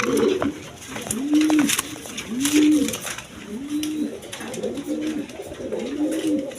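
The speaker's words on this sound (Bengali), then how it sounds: "এখানে এক পেয়ার জ্যাকোবিন কবুতর আছে দেখেন" A pair of black Jacobin pigeons coo steadily nearby, a run of about six evenly spaced, rounded coos over a faint constant background hum, with no voices.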